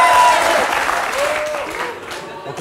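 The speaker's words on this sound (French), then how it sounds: "Quand il veut que les gens applaudissent" A French television studio audience claps on cue from the warm-up man, with dense applause that starts loud and gradually thins out.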